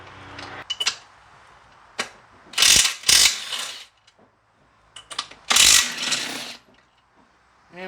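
A ratchet wrench removing bolts from the supercharger intake of a 1997 Ford Cobra, heard in several close, sharp bursts of rapid clicking separated by short quiet pauses.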